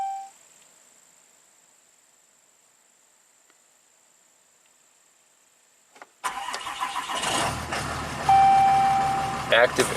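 Cummins diesel with fuel pressure and charging faults cranks and fires after a long silent stretch, then settles into a loud, rough, steady idle that swells slightly toward the end.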